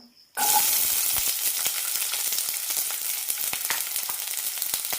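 Chopped small onions hit a teaspoon of hot coconut oil after a brief quiet moment, bursting into a loud bright sizzle that keeps crackling close and steady.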